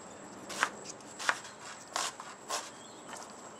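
A knife dices an onion on a cutting board, giving four or five distinct, fairly close chopping knocks spaced about half a second apart over a quiet background.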